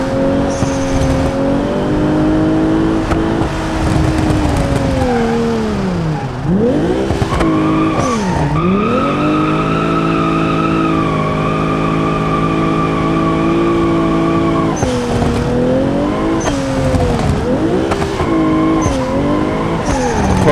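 Car drifting in the BeamNG driving game, its engine revving loud and steady with pitch dips and rises as it slides, under long, continuous tire squeals through a corner.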